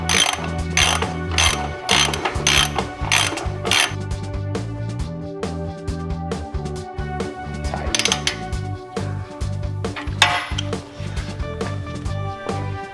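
A 3/4 ratchet wrench clicks steadily as screws are tightened on a Redline embroidery machine during unpacking, with rapid pawl ticking in bursts throughout and no talking.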